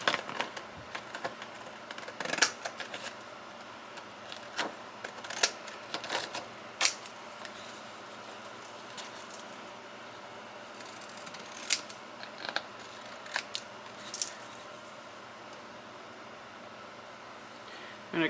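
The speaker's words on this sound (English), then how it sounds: "it would be very cool to cut it with the pinking shears" Pinking shears cutting across a paper tag, making a series of crisp snipping clicks at an irregular pace over a steady hiss, close but fairly soft, with no talk.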